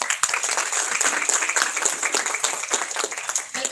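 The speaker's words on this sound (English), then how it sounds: "With a round of applause, please." A round of applause at a college event welcomes a guest. The clapping is lively and fairly close, with individual claps standing out in an irregular patter that holds steady throughout.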